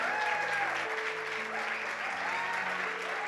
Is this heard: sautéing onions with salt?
no